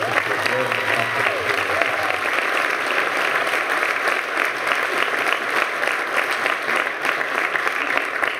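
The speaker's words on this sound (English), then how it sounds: "I'm gonna ask that you give him an applause" Audience applauding a mentor at a tech awards keynote, a dense, steady round of clapping lasting throughout, close and full with a faint crowd murmur underneath.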